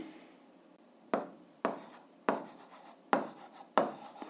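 A pen scratches across paper while working an algebra exercise, making five distinct, close-up writing strokes separated by short pauses.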